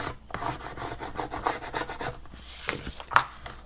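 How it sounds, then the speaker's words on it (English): Transfer tape backing being rubbed onto a bucket by hand, a series of close, quick scratchy rubbing strokes in irregular bursts with a louder scrape near the end. "I'm going to put the transfer tape backing back on here and give it a bit of a rub just to make sure it's on."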